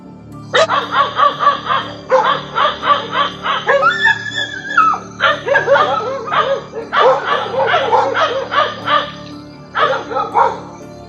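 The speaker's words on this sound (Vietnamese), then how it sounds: "Chỉ có những con chó ở gần đó nhìn thấy và sủa liên hồi như muốn xua đuổi thứ bí ẩn kia" Several nearby dogs bark repeatedly in quick, loud bursts, with yelps and a short whining wail in the middle, continuing for about eleven seconds.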